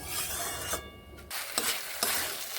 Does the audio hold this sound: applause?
no